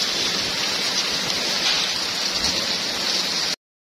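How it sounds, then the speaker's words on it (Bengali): Heavy rain outside on a rainy day, a dense, even hiss of falling water that holds steady and then cuts off abruptly, with no voices. "বাইরে তো প্রচণ্ড বৃষ্টি হচ্ছে"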